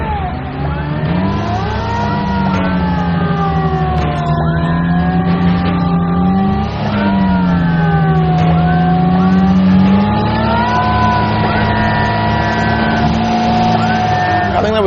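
Off-road vehicle with diff lock engaged grinding up a steep hill, a loud sustained engine drone whose pitch rises and dips under load for about fifteen seconds.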